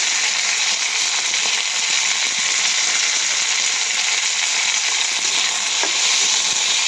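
Salted flat beans (sheem) frying in a pan, a steady, dense sizzle that holds evenly throughout with faint clinks of stirring, no voices.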